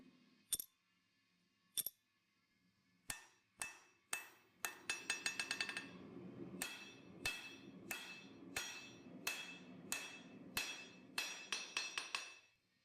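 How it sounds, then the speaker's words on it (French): Annealed, softened copper being hammered into a sword fitting: sharp metallic blows, first spaced apart, then a quick flurry, then a steady rhythm of ringing strikes, close and clear with no speech. "L'un des aspects agaçants du travail du cuivre est qu'il se durcit rapidement sous le marteau."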